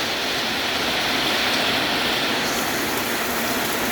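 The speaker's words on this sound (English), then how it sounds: "And now it's raining, so I had to stop." Steady rain falls outdoors as a dense, even hiss that holds for the whole few seconds, moderately loud and without voices.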